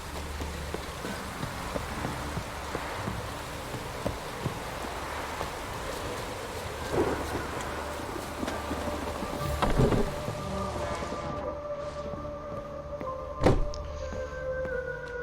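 Steady rain and thunderstorm weather in a video game, a constant wash of rainfall with low rumbling thunder swelling midway and a sharp crack near the end, no talking.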